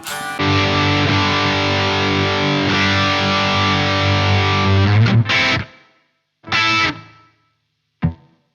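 An electric guitar rings out through an amp with slight reverb, holding a loud distorted chord for several seconds, then two short stabbed chords and a brief final hit, each trailing off into silence.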